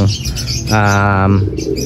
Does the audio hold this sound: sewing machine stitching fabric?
no